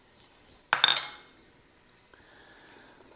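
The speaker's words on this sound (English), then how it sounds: "Stir them around, get them a little coated." A metal utensil clinks and scrapes against a pot in a Ninja Foodi cooker while stirring onions, followed by a soft, quiet sizzle.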